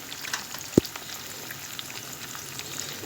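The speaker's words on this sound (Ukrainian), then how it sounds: "ну ось я вже смажу мої чебуреки" Soft, steady sizzling of chebureki frying in oil, with one sharp pop near the start and faint crackles throughout.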